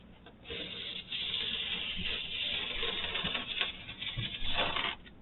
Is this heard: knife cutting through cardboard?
yes